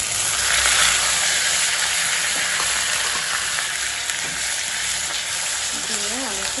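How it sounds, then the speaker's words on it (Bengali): Onion and spices fry in a hot pan at home, giving a loud, steady sizzle with occasional stirring scrapes, heard close up and without talking. "পেঁয়াজটা আমার হালকা লাল লাল ভাজা হয়ে যাচ্ছে, তো আমি এই অবস্থায় আমার সব মশলাগুলো দিয়ে দিব"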